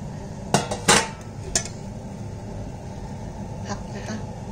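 Steamed vegetables are tipped from a steamer onto a dish, giving a few sharp clinks and clatters of metal and crockery over steady kitchen background.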